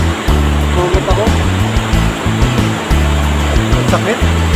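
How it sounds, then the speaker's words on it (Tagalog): Strong ocean waves surge in a continuous broadband wash of surf, with heavy low rumbling pulses beneath. People talk over the surf. "Ang lakas ng alon dun."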